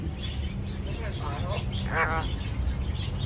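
A talking parrot calls out with a couple of short, warbling squawks, the louder one near the end, against a background of people talking close by.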